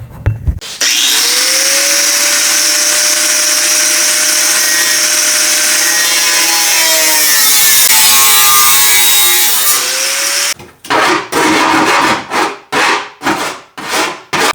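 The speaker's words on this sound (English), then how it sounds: "I'm just gonna use an angle grinder. Just gonna cut that right off." An angle grinder cuts off part of the fender on a third-generation Toyota 4Runner, first a long loud sustained whine that bends in pitch as it bites the metal, then a series of short choppy bursts.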